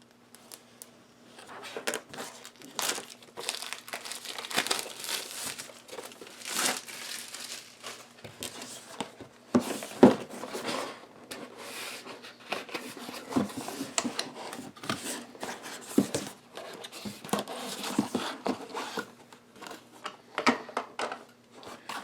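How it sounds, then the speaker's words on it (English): Crinkling plastic and cardboard packaging as a box holding an Injora RC car body for an SCX24 crawler is opened, with close rustles, tearing and handling noises coming in irregular bursts, no talk. "Let's open up the box and check out what's inside."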